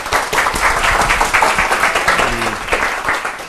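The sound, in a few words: applause for the speaker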